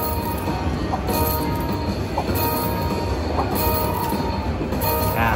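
The purple train of the Cash Express Luxury Line slot machine rumbles loudly and continuously, with rail clatter, high squealing wheels and brief bright accents repeating about once a second.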